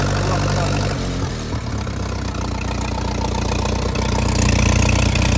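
A Ferguson TEA 20 tractor engine with a leaking carburettor runs loud and close in a steady rough chug, rising slightly as the throttle opens near the end.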